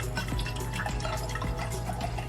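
Coconut water pours steadily into a measuring cup, a close, continuous liquid trickle with light dripping and splashing, alone without talk.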